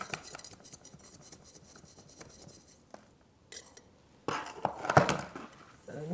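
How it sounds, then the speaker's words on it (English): A knife is run around the inside of a plant pot to loosen the soil, soft scraping and tapping for a few seconds, then a louder, denser grinding scrape near the end, close and without talk. "I'm going to take like a knife and just kind of go around the sides just to help loosen it up from around the edges"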